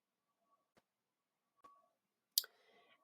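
A few sharp, quiet mouse clicks sound against near silence, two isolated taps spaced apart followed by a slightly louder click with a short rattling tail, as a small gear icon on a website is selected.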